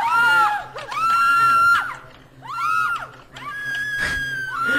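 Fairies in a video game let out several high, wavering shrieks in separate bursts, loud and close, with brief pauses between the cries.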